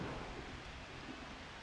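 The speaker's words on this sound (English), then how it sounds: "it's raining" Rain and thunder in the football video game Blood Bowl 2, a faint, steady broadband hiss of rainfall with a low rumbling undertone, continuous and without voices.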